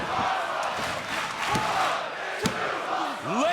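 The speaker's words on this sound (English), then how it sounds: "Listen to this crowd" A large wrestling crowd at a cruiserweight tournament roars continuously and loudly, a dense wall of cheering and shouting with no break.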